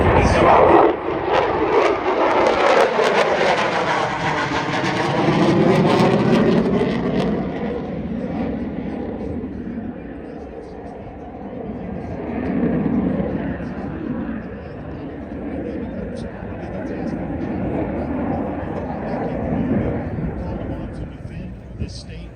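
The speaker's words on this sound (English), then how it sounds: "From the right, ship number 2 will be coming by, going to full afterburner now." A military jet at an air show sweeps past at full afterburner, a loud, rolling roar that swells and shifts pitch as it passes, then fades into a long, rumbling tail.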